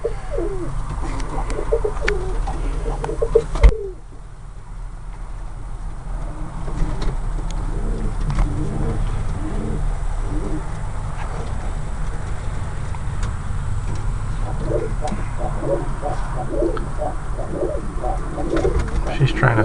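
Portuguese tumbler pigeons coo in a breeding loft, soft repeated murmuring calls scattered through a steady low background hum, with a brief sharp knock early on.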